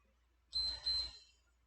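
An exercise timer alarm going off indoors, two short high electronic beeps in quick succession against an otherwise quiet background.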